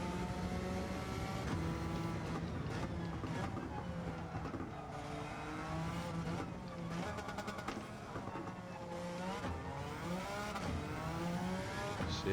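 The engine of a Suzuki Escudo Pikes Peak race car howls in Gran Turismo 7 on a Sardegna road circuit, rising and falling in pitch through hard gear changes, with someone talking over it.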